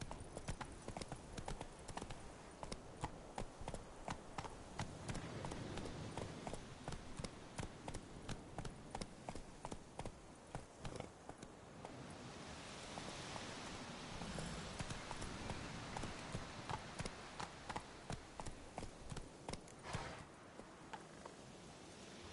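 Roach, a horse in Witcher 3, gallops with a fast, steady clip-clop of hooves that continues throughout, fairly loud and close, with faint background ambience.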